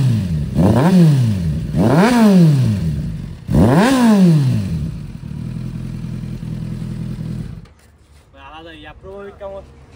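A motorcycle fitted with a BS4 exhaust at a roadside dhaba gathering of superbike riders fires up and revs in three loud rising-and-falling bursts, then settles into a steady idle before a short, sharper rev pattern near the end.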